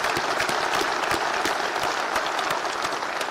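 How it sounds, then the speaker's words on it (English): A room of people at a Marine Corps awards ceremony breaks into steady, dense applause, many hands clapping together close by for the full stretch without letting up. "So he deserves a round of applause."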